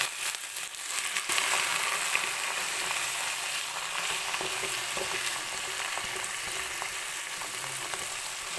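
A Kerala-style curry of moringa leaves with a pinch of salt sizzles in a pan while being stirred. Loud, continuous frying hiss runs throughout, with scraping stirring clicks close by and nobody talking.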